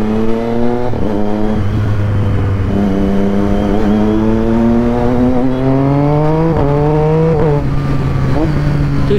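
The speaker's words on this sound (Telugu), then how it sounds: "చూసినారా, బేసికలీ ఆ లోడ్ వెళ్ళిపోయినప్పుడు ఏంటంటే గేర్ అనేది షిఫ్ట్ అయిపోతుంది నెక్స్ట్ స్లాట్లోకి." Motorcycle fitted with a quickshifter accelerating hard through the gears, the engine note climbing steadily and briefly dropping at each clean upshift, loud and close, with a voice talking underneath.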